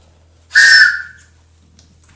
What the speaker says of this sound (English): And then blow your whistle.